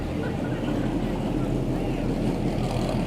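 A boat motor at Key West drones steadily at close range, a constant low rumble with no pauses.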